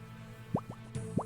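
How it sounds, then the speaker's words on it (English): Three quick bubbly bloops rise in pitch over a low steady hum, a short cartoonish sword-heating sound effect from Old School RuneScape's Giants' Foundry smithing minigame. "For some reason, that's the sound of heating sword."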